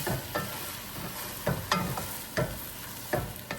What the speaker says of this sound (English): cook for a few more minutes, stirring often